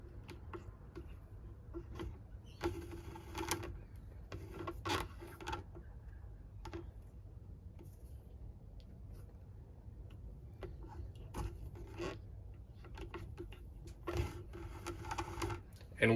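Hand stitching of leather with needle and thread, working around a corner: repeated soft scratchy pulls and ticks of thread drawn through the hide in an irregular rhythm, close and quiet, with brief low talk in places.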